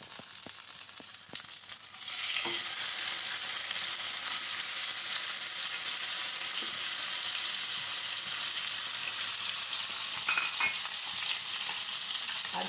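Chicken hits melted butter in a pan and fries with a steady, loud, even sizzle that runs for the whole stretch, with a few faint stirring clicks near the start and end; no one speaks.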